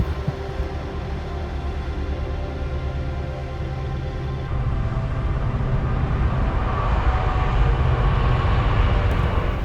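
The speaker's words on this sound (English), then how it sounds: "the sound of that train" A London to Birmingham train rumbles past nearby along a canal at Berkhamsted, a steady low roar of rail wagons that swells slightly louder toward the end.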